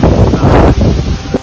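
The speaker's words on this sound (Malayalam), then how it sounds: "അതുപോലെ തന്നെ കാറ്റ് നിങ്ങൾക്ക് ഒരുപക്ഷെ കാണാൻ പറ്റുന്നുണ്ടായിരിക്കും." Wind buffets the microphone on a monsoon mountain trek, a loud continuous low roar with gusty swells over about a second and a half, with no talk.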